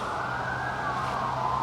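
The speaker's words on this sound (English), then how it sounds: "So you hear the sirens, right?" Emergency vehicle sirens wail outside in the distance, a steady rising-and-falling tone heard through the room with no talk over it.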